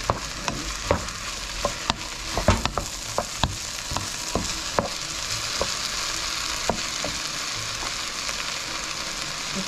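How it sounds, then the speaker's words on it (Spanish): Tomato frying with onion in a pan for shrimp enchilados, a steady sizzle broken by frequent sharp spoon taps and scrapes at close range, with no voices. "Y le echamos el tomate y lo dejamos que siga agarrando ahí todo."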